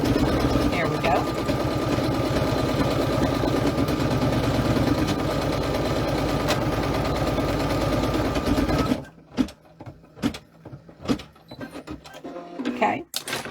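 An embroidery machine stitches a placement stitch in a steady, fast mechanical rattle, loud and close for about nine seconds, then stops, leaving a few scattered clicks and handling knocks.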